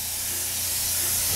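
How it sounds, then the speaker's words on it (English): A paint spray gun gives a steady, loud hiss while painting a Kawasaki motorcycle wheel, continuing without a break, with no voices over it. "Now Glenn wanted to do a little practice spraying."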